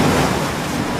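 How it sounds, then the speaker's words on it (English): Big ocean waves rolling and breaking at a surf lineup, a steady broadband wash of surf with wind noise over the microphone, continuous and fairly loud with no voices. "I can't even paddle out to the lineup past the big waves."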